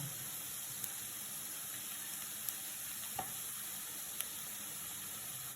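A spice masala sautés on a low flame for a Kerala meat puttu, giving a soft, steady sizzle heard close and alone, with a few faint clicks.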